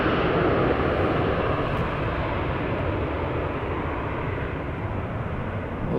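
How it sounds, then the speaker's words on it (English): An Embraer jet airliner at Amsterdam Schiphol Airport gives a steady, loud, broadband engine roar that holds evenly throughout, with no voices. "Nice to see an Embraer for a change."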